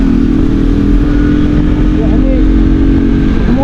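Motorcycle engine accelerating on a Moroccan road, a loud, close, continuous revving drone with a steady rumble and talking layered over it.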